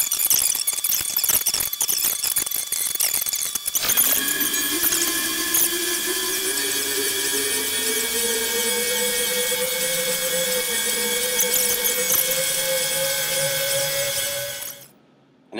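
A CNC mini-mill cuts with a 1/16 inch end mill, a loud, continuous high-pitched whine and squeal with a rising, wavering tone, steady for over ten seconds before cutting off abruptly.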